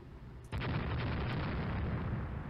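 Naval 14-inch gunfire striking ships in the Rule the Waves naval strategy game, an abrupt heavy boom that gives way to a sustained loud rumbling roar.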